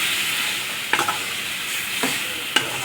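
Masala fries in oil in a pan for a spicy onion curry, giving a steady close sizzle broken by a few sharp stirring scrapes.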